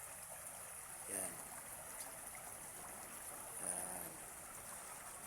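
A river flows with a faint, steady wash of water, and a voice speaks briefly twice over it.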